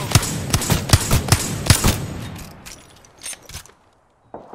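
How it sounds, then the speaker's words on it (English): Rapid gunfire aimed at the player in the video game Apex Legends, a quick close burst of about a dozen sharp shots, then a few scattered, fainter shots trailing off. "They're shooting at me!"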